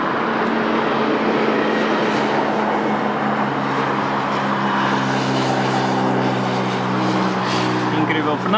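An airplane engine roars at Lisbon Airport, a loud, steady, droning whine with sustained tones that holds throughout, with talk faintly beneath it.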